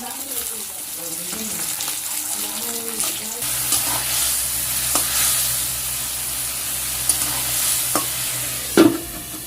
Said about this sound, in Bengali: আর ওই যে বেগুন ভাজছি 2টা